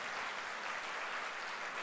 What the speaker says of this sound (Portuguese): eu acho que Jesus merece um aplauso por essa